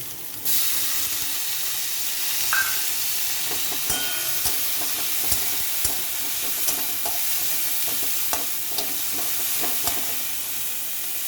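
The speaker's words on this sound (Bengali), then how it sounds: "পেঁয়াজটা লাল হয়ে গেছে, এবারে আমি টমেটোটা দিয়ে দিচ্ছি।" Tomato hitting browned onions in a hot pan for a soybean and cauliflower curry, giving a loud, steady sizzle and frying hiss throughout, broken by occasional stirring clicks and scrapes, with no talking.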